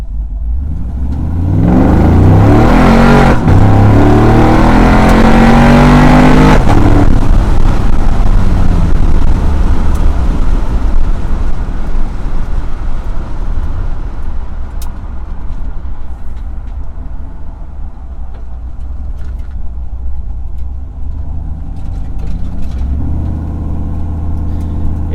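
A Gen V engine car accelerates hard, its loud roar climbing quickly with tires spinning, then the engine note falls away into a long, lower drone and settles near idle.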